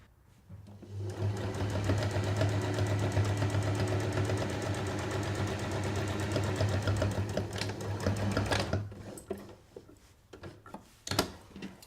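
A sewing machine runs in a fast, steady whirring stretch while stitching a reusable fabric kitchen towel, close and clear, then stops into a few scattered clicks and handling knocks.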